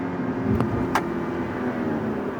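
A BMW 530i engine revving high and steady at 5,500 RPM, a dense even hum with a couple of brief faint clicks early on.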